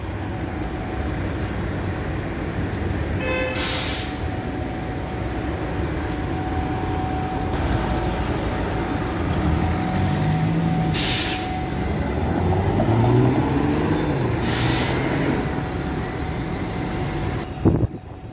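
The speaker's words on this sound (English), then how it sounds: "Never seen so many trams in one place." Trams in Belgrade rumble and hum through a busy street, a steady mechanical drone with passing swells and a few brief hisses and clanks, alongside constant city traffic noise.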